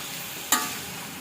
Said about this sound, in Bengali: আমি সবজিটাকে একটু হালকা কষিয়ে নিচ্ছি।